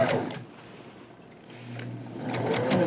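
Sewing machine stitching a lap quilt, a close steady mechanical whir in short bursts at the start and end with a quieter pause between.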